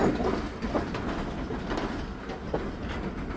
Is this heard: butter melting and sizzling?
no